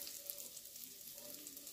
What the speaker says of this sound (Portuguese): tá fritando ali a pipoca,